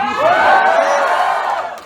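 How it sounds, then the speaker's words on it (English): An audience at a university stand-up comedy show breaks into a brief, loud burst of cheering and whooping that swells and then fades within a couple of seconds. "Give me a louder cheer, I can't hear you."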